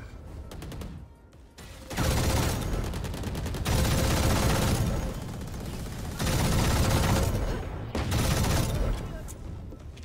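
Odin machine gun fire in Valorant: long, sustained automatic bursts blaze loud and close, broken by brief pauses between heavy sprays, while someone talks in the middle of the shooting.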